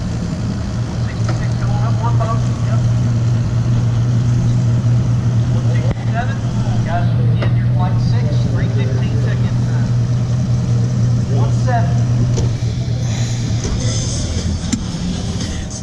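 Fishing boats take off one after another at a tournament on Pickwick Lake, with a steady loud outboard engine drone throughout and faint passing whines from other hulls across the water.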